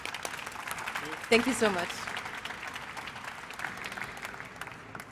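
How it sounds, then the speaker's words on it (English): Applause at a smart-city conference session on data-based traffic management breaks out for the speakers, moderate crowd clapping that runs throughout while a voice speaks briefly over it. "Please give a warm round of applause to our speakers."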